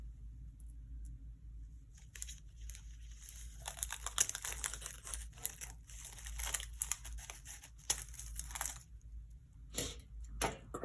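Scissors snip and crunch through crinkly plastic packaging in irregular bursts, close and fairly quiet, with brief pauses and no talking.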